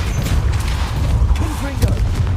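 Confringo spell blast in the Hogwarts Legacy video game, a booming fiery burst over dense low rumble and crackling combat noise, with a brief voice calling out.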